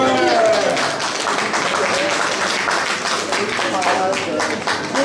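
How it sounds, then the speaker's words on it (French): Audience applause at a trophy award ceremony for an international business art fair, a dense, steady wash of clapping sustained for several seconds with voices talking over it. "pouvez applaudir, hein, c'est vrai."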